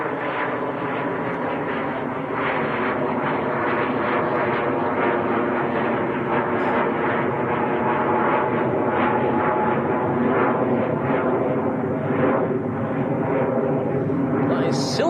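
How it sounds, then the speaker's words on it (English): A Silver Aviation Pilatus PC-24 business jet climbs steeply out of Manchester Airport, its broad, steady engine roar holding loud throughout, with a person talking over it. "That is Silver Aviation's PC-24"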